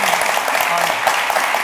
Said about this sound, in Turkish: Semih Ezgi'yi yazar diyenler alkışlayabilir mi?